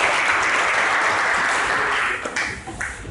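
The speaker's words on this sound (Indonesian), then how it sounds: "Ayo kasih aplaus buat Ayu." Classroom applause for a student named Ayu, a dense burst of clapping from a group that holds steady, then thins and fades out near the end.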